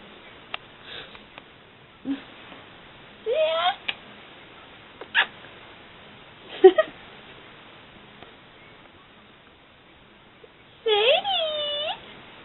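House cats give scattered meows and rising, drawn-out caterwauls, close and fairly soft, with quiet gaps and small sniffs between calls.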